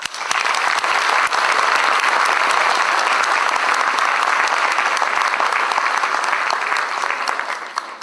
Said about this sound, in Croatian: u znak zahvalnosti svima ja vas molim za jedan dobar aplauz